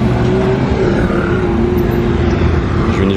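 Porsche Carrera GT engine running loud and steady at a car show, a continuous deep drone with a sustained tone throughout, no talk.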